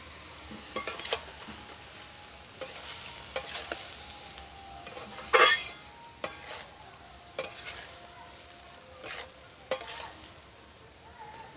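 Banana stem and potato fry in a pan with salt and turmeric as a spatula stirs them. A soft continuous sizzle runs under irregular scraping strokes and a few clanks of the utensil against the pan, close, with no voices.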